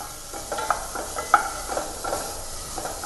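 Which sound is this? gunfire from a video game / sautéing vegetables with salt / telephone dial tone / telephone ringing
sautéing vegetables with salt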